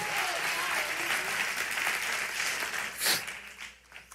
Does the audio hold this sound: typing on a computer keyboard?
no